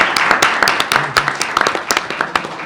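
Audience applause at a board meeting, a brisk scatter of hand claps from a small group, fairly loud and close, with no talking.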